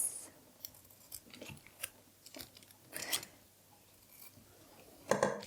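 Scissors snipping paper while packaging an oil pastel painting, a handful of sharp, close cuts scattered across the moment with quiet gaps between and a louder crisp snip near the end.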